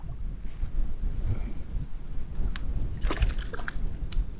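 Wind rushes over the water during kayak fishing for bass in an abandoned mine, a low blustery rumble on the microphone, broken by a few sharp knocks and rattles near the boat, with no talking.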